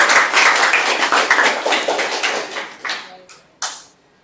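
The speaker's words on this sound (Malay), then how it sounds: "Bagi tepukan paling dulu" An audience at an evening talk on financial freedom breaks into brisk, loud applause of many hands clapping. It thins out toward the end, with a few last sharp claps trailing off.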